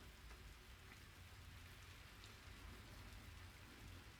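Steady, dense rain hissing without a break in the video game American Truck Simulator, with a low rumble underneath and no voices.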